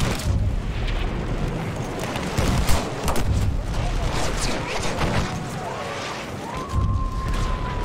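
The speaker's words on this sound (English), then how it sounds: "There's a machine gun!" Battlefield 1 battle with heavy gunfire, machine gun bursts and booming explosions blending into a dense, loud, continuous din while shouting voices come through the chaos.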